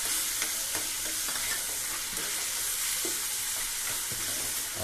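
Home-ground coriander powder is stirred as it fries in a pan, with a steady close sizzle and crackle running throughout and faint scrapes and taps of the spoon against the pan.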